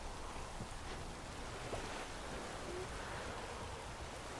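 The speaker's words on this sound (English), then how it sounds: "Looks like rain." Rain falling in The Witcher 3, a soft, even hiss of rainfall spread across the scene, faint and continuous, with a couple of brief tonal calls briefly standing out above it.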